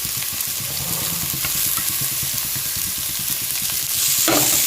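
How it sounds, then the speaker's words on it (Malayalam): Carrots sizzle in oil in a pan while being stirred for rava upma, a close, steady frying hiss with rapid rhythmic scraping of the spoon, growing slightly louder near the end. "ഇട്ടിട്ട് നല്ലപോലെ ഇളക്കി കൊടുക്കാം"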